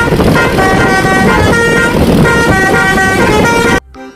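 A toy super bus sounding a loud, sustained horn tone that holds steadily for several seconds and then cuts off abruptly.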